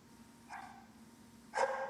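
A dog barks twice outdoors, a short moderate bark followed by a louder, sharper one about a second later, standing out against a quiet background hum.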